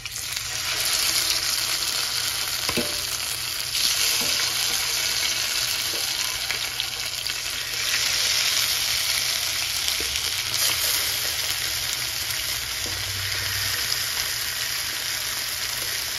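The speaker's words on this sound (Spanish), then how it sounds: "Nuestro aceite ya está bien caliente. Vamos a agregar las piezas de nuestro pollo." Chicken legs fry in hot coconut oil in a cooking pot, giving a steady, loud, dense sizzle throughout with occasional faint clinks and stirring noises and no talking.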